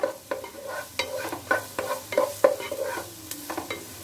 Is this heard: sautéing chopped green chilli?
yes